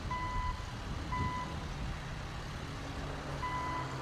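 A truck with a container trailer backs up in GTA 5, its reversing alarm giving steady high beeps in evenly spaced bursts over a constant low engine rumble.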